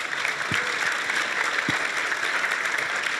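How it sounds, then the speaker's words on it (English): An audience at a Berlin livestream event breaks into applause, a steady dense wash of clapping that holds evenly throughout at moderate distance, with a couple of louder thumps near the front. "So huge round of applause, please."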